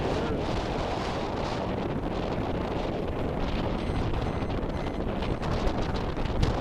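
Wind buffets a sailboat on a late-October sail as it nears the marina, a loud, steady roar of wind across the microphone with slight gusty swells throughout and no talking.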